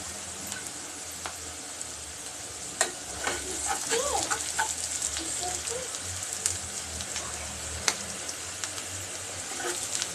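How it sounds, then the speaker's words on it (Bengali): Steady broadband sizzle of food frying with salt in a pan until browned, for a yardlong bean, potato and rohu fish curry; a continuous close crackle with brief scattered pops and faint clatter, no talking. "এই যে লবণ দিয়ে ভাজতে ভাজতে আমি এটা ব্রাউন কালার করব"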